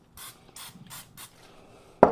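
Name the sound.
butter spray being sprayed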